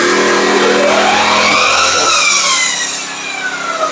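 A small kick-started mini paddy and grass cutting machine revs its engine hard and close, the pitch climbing and then falling back as the throttle eases off.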